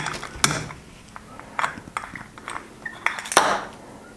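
Metal Allen key working a bolt out of a Keihin FCR carburetor on a Yamaha WR450F, heard as faint scattered metallic clicks and small clinks close by.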